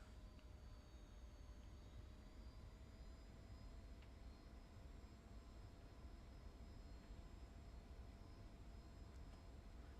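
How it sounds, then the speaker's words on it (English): F-86 jet engine in the DCS flight simulator, a steady broad roar with a thin whine held throughout, fairly faint and unbroken, no voices. "You can hear the engine like going up and down."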